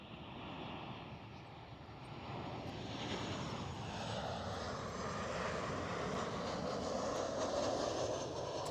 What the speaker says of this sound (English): KLM 737-700.